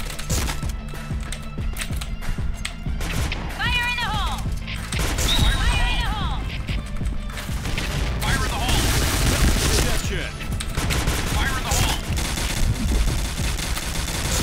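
Gunfire from an online shooter game, heard as bursts of rapid shots mixed with explosions and game sounds, running steadily over a dense, loud background.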